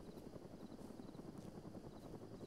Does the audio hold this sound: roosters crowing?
no